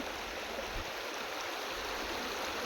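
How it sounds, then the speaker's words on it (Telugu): Steady broadband rush of a forest stream, the Jampanna stream flowing through the Eturnagaram wildlife sanctuary toward the Godavari, running constant and fairly close with no voices. "వాగు ఇది జంపన్న వాగు అంటారు కదా"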